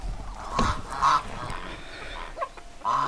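Backyard chickens wandering into a frost-ended vegetable garden give a few short honking clucks at moderate distance, spaced out over a quiet outdoor background with no talking.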